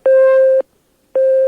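A telephone busy signal on a failed call sounds as two loud, steady tones, each lasting about half a second, separated by a clean pause.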